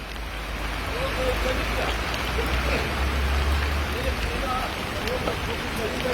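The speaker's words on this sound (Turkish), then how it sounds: "Çekim yapamıyoruz yağmurdan ki" Steady, dense hiss of heavy rain falling on surfaces during a downpour in Ünye, Turkey, continuous and loud throughout, with a faint voice buried beneath.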